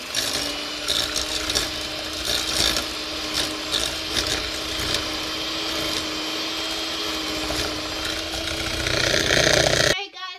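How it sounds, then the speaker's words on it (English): An electric mixer whirs steadily through vanilla cupcake batter and sugar, its motor droning close and continuous with some rattling against the bowl before it cuts off near the end. "So we're just gonna start mixing, but first I'm just gonna mix it around so that the sugar won't go anywhere."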